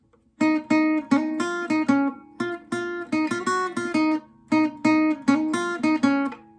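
Solo guitar picks the first three sections of a song's riff in one continuous pass, quick repeated plucked note patterns with crisp attacks and an even driving rhythm, no voices.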